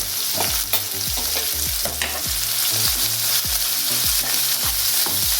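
Two chopped large onions with two green chillies and a pinch of salt sauté in a pan for chicken rogan josh, a steady loud sizzle broken by a regular rhythm of spatula scrapes and stirs, close and with no voices.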